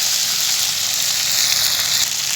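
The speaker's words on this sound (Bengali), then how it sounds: "মশলাটা একটু তেলে ভেজে দিব।" Ginger, garlic and cumin paste fries in hot oil in a pan, a loud, close, unbroken sizzle with no pauses and no voices.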